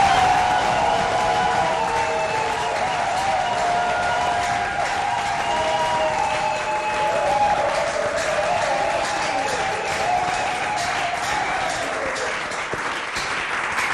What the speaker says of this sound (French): avez applaudi pour le frère David, mais moi je veux qu'on acclame pour ce Nzambe qui est vraiment Nzambe.